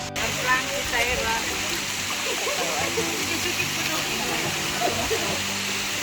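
Sagpolon Falls pours as a steady, full rushing roar of water close by, with voices talking over the continuous wash throughout.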